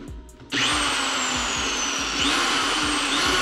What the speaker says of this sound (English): Drill bit is so sharp.